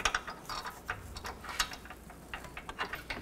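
A hand ratchet snugs control arm bushing bolts on a 2007-16 GMC Acadia, giving close, quick, irregular bursts of metallic clicks with short pauses between strokes.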